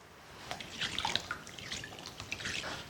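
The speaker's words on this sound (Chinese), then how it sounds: "土豆也切成小块， 入清水中再次清洗一下" Cut potato pieces are rinsed in clean water, producing faint, close splashes and drips that come in small irregular bursts.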